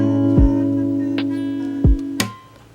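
A guitar chord from a song rings out plucked on several strings, sustaining with a few sharp string plucks and one final strum, close and clear with no talking.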